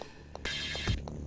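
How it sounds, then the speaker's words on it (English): Phone ringtone taken from the Amiga racing game Supercars 2, a short electronic tune of a few bright bursts sounding over quiet game audio. "My ringtone is Supercars 2."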